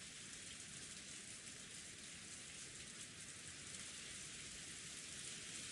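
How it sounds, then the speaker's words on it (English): Steady, even rain from the Umineko visual novel game, a dense continuous hiss of falling water on surfaces that stays close and unbroken throughout, with no voices. "All that could be heard with the sound of the rain"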